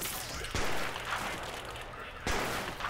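Rapid bursts of gunfire in the prison-management game Prison Architect, two sharp onsets kicking off dense, sustained crackling fire that stays loud throughout, with possible voices mixed underneath.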